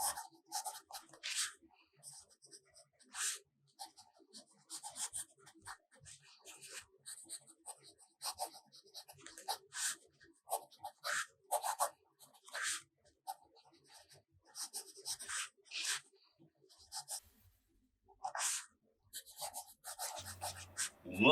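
Fountain pen with black Organic Studios John Hancock ink writing on paper, close and quiet: short scratchy strokes in irregular bursts with brief pauses between words.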